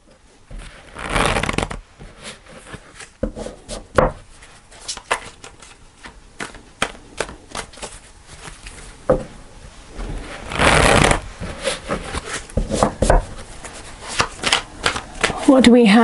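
Tarot cards being shuffled in repeated bursts of riffling and flicking at close range, with two longer, louder riffles standing out among softer card handling; a voice speaks faintly at moments.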